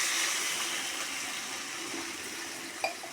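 Water poured into a pan of fried spices for Bengali fish curry (macher jhol), a steady broad rushing splash lasting a few seconds with a small clink near the end, no voices.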